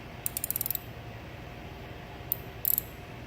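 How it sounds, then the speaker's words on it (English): A ratchet socket wrench with a 13mm socket clicks on a battery bolt in a Chevrolet Cruze: a quick burst of about eight crisp ratchet clicks, a lone click, then a short second burst, fairly quiet with no talk. "And you're going to take your 13mm socket."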